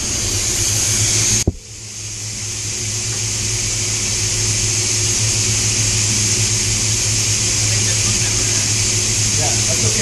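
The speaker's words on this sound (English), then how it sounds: "So we got the blowers going" Air blowers run during the painting of a silver Range Rover, a loud, steady, close whooshing roar with a sharp knock and brief dip early on before the rushing airflow builds back to full strength.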